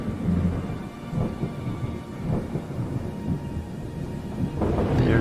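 A stormy night in the IFSCL game brings steady rain and low rolling thunder, with several soft rumbles and a louder surge near the end, and no voices.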